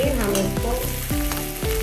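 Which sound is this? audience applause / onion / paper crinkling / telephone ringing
onion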